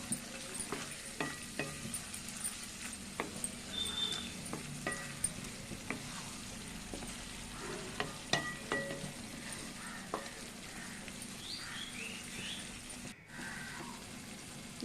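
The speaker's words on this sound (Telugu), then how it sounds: "ఇప్పుడు ఇదంతా కలిసేలా ఒకసారి కలుపుకోవాలి." Junnu curry is stirred in a pan, with soft, steady sizzling and frying under irregular scrapes and clicks of a spoon across the surface, close and moderately quiet, and no voices.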